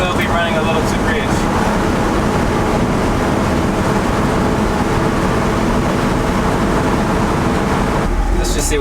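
A carbureted car engine with an Edelbrock AVS2 carburetor roars continuously and loudly under hard acceleration uphill, filling the whole stretch before cutting off abruptly near the end.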